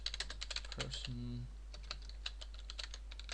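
Quick, close clicking of keys on a computer keyboard in an irregular typing rhythm, running throughout, with a brief hum-like tone near the start.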